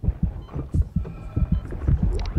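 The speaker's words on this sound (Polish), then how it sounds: "Czemu to w ogóle słychać cały czas takie bicie serca głupie?" Looping heartbeat sound effect in the space game Dead Space 3, a steady run of deep, thudding double beats, about two per second, loud and close with a faint hum beneath.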